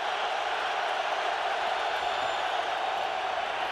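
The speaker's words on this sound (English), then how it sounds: "Crowd getting loud." Football stadium crowd at an NFL game between the Minnesota Vikings and Detroit Lions, a steady distant roar of many voices building as a team backs up near its own goal line, with faint whoops.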